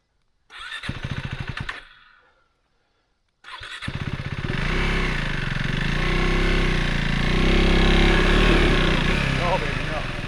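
A KTM 390 Adventure R motorcycle engine cranks briefly and stops, then after a pause cranks again and catches, settling into a loud, close, steady idle.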